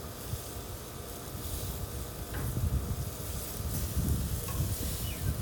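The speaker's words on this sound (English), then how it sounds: "Daddy's browning steaks on one side" Steaks browning in a hot pan give off a steady, close sizzle and crackle that swells a little toward the end, with no one talking.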